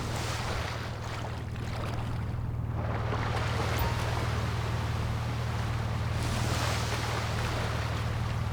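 A boat's steady low engine drone in GTA Online runs throughout, mixed with rushing water and wind noise, loud and continuous.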